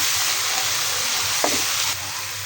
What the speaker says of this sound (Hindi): 1 से 2 मिनट अच्छी तरह से इनको भूनेंगे ताकि इसका कच्चापन ख़त्म हो जाए।